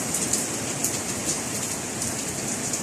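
Heavy rain falls in Lahore, with water pooling in a garden, as a dense, steady hiss of drops hitting surfaces that stays even and moderately loud for the whole stretch.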